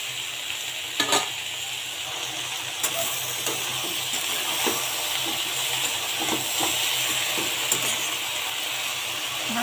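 Sliced okra fries in a pan on a stovetop over low heat, giving a continuous close sizzle and hiss broken by occasional light clinks and stirring scrapes, with no voices.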